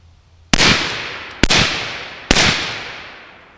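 Three sharp rifle shots from a 10.5-inch LMT fitted with a Turbo K suppressor, evenly spaced about a second apart, each a loud crack followed by a long decaying outdoor echo.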